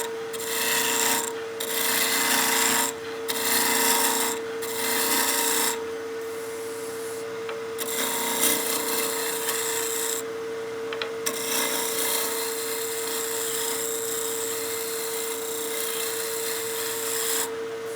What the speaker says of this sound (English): Now we can use our spindle roughing gouge just to get this to round.